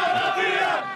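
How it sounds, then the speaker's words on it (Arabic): Moroccan football fans crowd the Souq Waqif market on the eve of the World Cup, a loud burst of massed cheering and chanting voices that swells for a moment and then fades. "الجماهير المغربية حولك في كل مكان"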